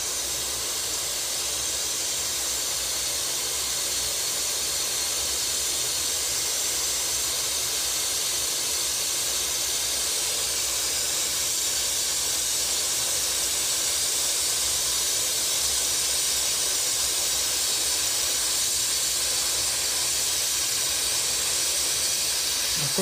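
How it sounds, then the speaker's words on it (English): Touch-up spray gun laying down a lowrider paint pattern, a steady continuous airy hiss that runs unbroken and fairly close for the whole stretch, with no voices over it. "Of course, this is with the touch-up gun."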